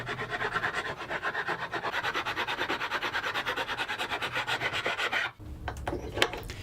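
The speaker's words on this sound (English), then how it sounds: "I've got to spend some time with a file to clean up all those grooves" A hand file rasping across barn wood to smooth out saw grooves, about two strokes per second in an even back-and-forth rhythm, close and loud, stopping abruptly near the end, followed by a few light knocks.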